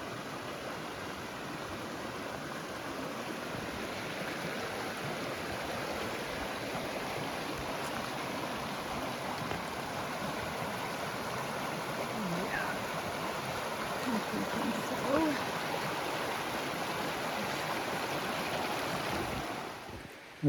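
Steady rushing water churns and splashes for a long stretch, broad and continuous like a vehicle pushing through a stream, with wind noise underneath.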